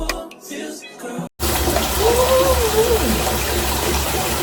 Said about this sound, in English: Y'all, the water is so cold.